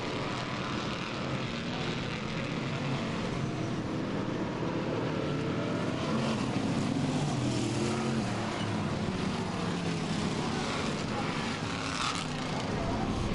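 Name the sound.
race cars lapping a track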